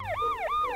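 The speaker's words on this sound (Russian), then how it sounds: "Там скорая едет?" Ambulance siren on a street, a loud, close wailing tone sweeping up and down in two quick repeating cycles with no talking.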